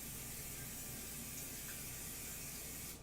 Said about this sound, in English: I'm gonna take my cooking spray just over here to the side.